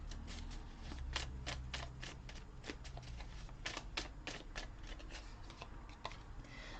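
Message cards being shuffled close by, a steady run of crisp flicks and riffles.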